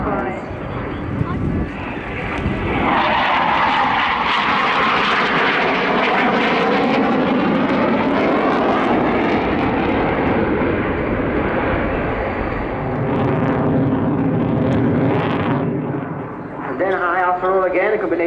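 An aerobatic airplane at an airshow roars past in a long, loud, sustained engine sweep with shifting pitch as it manoeuvres, fading then rising again near the end, with a commentator's voice underneath.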